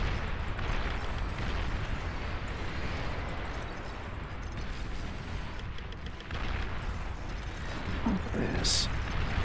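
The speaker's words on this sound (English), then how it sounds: "What is even hitting? Oh, those rockets?" Rocket strikes in the real-time strategy game Beyond All Reason, a dense continuous rumble of overlapping distant explosions and blasts through a large battle, with a sharper burst near the end.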